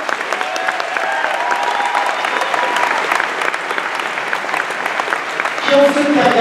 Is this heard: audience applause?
yes